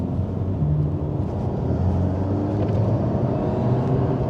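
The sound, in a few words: car driving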